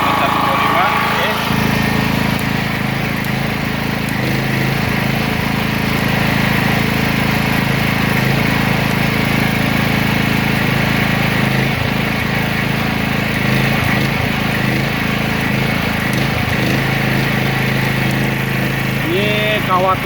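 A 900-watt genset powering a 125-amp electric welding machine runs steadily and loudly with a constant droning engine hum, while someone talks over it throughout.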